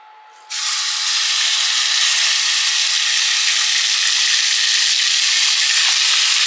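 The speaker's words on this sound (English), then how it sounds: "If it doesn't sizzle like that when you put your meat in, it's not warm enough yet." Beef hits a hot pan and bursts into a loud, steady sizzle that starts abruptly and holds its hiss, close up with no voices.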